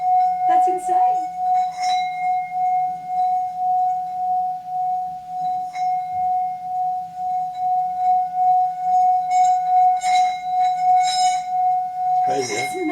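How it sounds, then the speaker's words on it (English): A sustained, wavering metallic hum from a Tibetan singing bowl rings steadily throughout, pulsing gently, while people speak briefly over it at times. "It's called a singing bowl."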